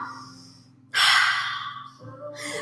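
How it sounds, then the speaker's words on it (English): A deep, breathy inhale is drawn in close and clear during a yoga flow, followed by a softer breath, with a faint voice briefly audible at the start. "Inhale"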